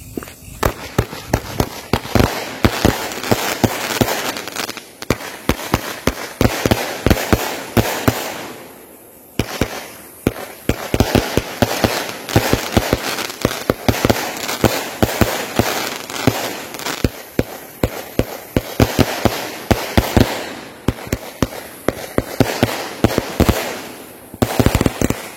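A long, rapid string of sharp Star Wars firecracker bangs at night, crackling in dense irregular bursts with a brief lull partway through, loud and close.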